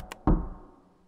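Two knocks in a video game, part of a Morse-style knock code: a faint light tap, then a louder, heavier thud that rings out and fades over about a second, with no talking.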